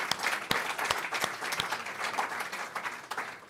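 Audience applause at a press conference for a French film festival, a steady wash of many hands clapping at moderate level for a few seconds, with a few sharper individual claps standing out.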